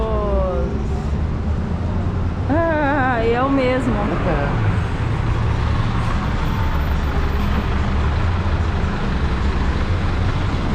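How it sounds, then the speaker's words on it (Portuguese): A city bus pulls up in Paraguay with a steady loud engine rumble, falling and wavering tones as it slows, and constant roadway noise throughout; someone speaks briefly near the start. "Chegou o ônibus."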